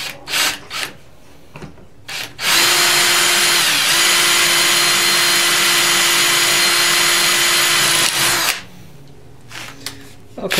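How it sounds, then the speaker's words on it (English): A power drill bores holes in lumber with a loud, steady whine of about six seconds, preceded by a few short bursts and knocks of the bit and followed by quieter handling sounds. "Okay, got our two holes drilled."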